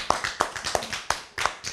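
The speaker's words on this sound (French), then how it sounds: "Très bien. Applaudissez pour elle." A handful of scattered hand claps, about six sharp irregular slaps over a couple of seconds, from a small group in a quiz segment rewarding a girl's correct answer.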